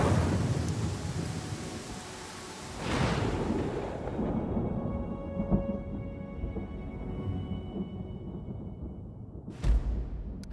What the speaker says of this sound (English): Get out of this damn rain.